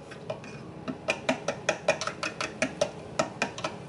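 A spoon stirs broth and boiling water in a measuring bowl, giving a quick, rhythmic run of light clinks and scrapes against the bowl, close and clear with no voices.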